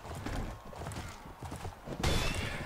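Horse hooves clop in Mount and Blade Warband, a rapid, irregular galloping patter that runs throughout at moderate loudness, with a brief burst of harsher noise near the end.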